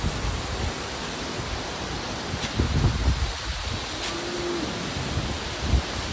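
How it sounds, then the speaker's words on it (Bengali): Strong wind roars steadily in a dense, broadband rush with gusty swells and buffeting thumps against the microphone, no voices heard. "সাংঘাতিক ঝড় দিচ্ছে"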